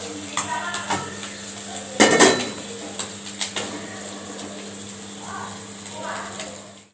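A wok is set down on a stove in a village kitchen, with one loud metallic clank among lighter clatters of pots and utensils and a steady low hum underneath.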